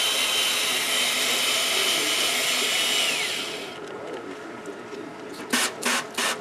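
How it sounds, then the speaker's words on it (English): Sandpaper worked back and forth over a car headlight lens gives a dense, continuous abrasive hiss that stops partway, followed by a few short scrubbing bursts. "he's just going to make a couple more passes over the light, and that'll be it with that sandpaper"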